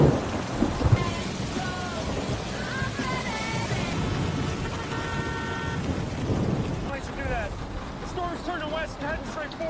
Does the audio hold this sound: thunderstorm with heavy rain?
yes